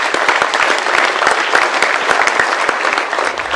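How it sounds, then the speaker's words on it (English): Loud, dense applause from a large audience at an awards recognition event honoring the Oscar-winning team behind The Elephant Whisperers, sustained and steady throughout with sharp individual claps standing out. "Can we have a loud round of applause?"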